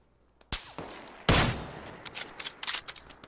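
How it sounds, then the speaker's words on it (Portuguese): Gunfire in the video game PUBG: two sharp, loud shots ring out, then a quick irregular burst of fainter rapid shots follows, crackling over a quiet background. "Tiro das costas."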